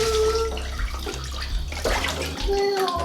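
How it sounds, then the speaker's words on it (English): Water from a measuring cup pours over a toddler's curly hair during a bath, making a continuous close splashing flow, with a voice faintly heard. "To rinse her hair, I use this measuring cup from the dollar store"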